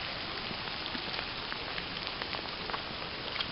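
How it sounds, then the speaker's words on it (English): Steady rain falls around someone walking outdoors on the way to work, a dense, even hiss of drops with small pattering ticks throughout. "rain's starting to come down a little more now"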